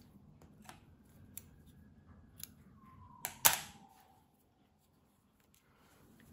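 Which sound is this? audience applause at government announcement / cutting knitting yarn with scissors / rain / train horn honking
cutting knitting yarn with scissors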